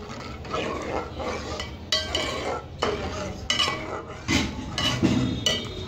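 A spoon stirs custard mixture in a pan, scraping and clinking against the metal in repeated strokes, fairly quiet and close, with no talking over it.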